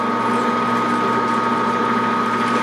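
A machine drilling into a bore in a machinist jack with a slotted base, a continuous steady mechanical whir with a constant pitched hum and no pauses, loud and close.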